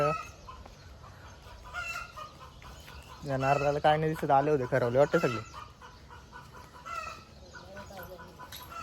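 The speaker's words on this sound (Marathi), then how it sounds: "इकडं कशी झुंज लागली कोंबड्यांची" Chickens squawk and cluck loudly in a short, agitated burst as they fight, with a person talking before and after.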